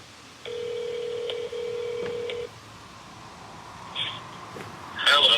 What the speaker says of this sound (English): see if I can get him on speakerphone